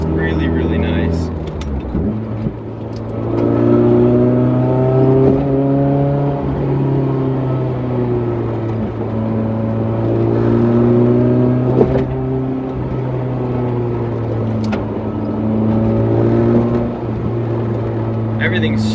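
A 1989 BMW M3 engine pulls hard from inside the car, a loud steady drone rising through gear changes with dips and climbs in pitch, plus faint cabin rattles over the nineteen seconds.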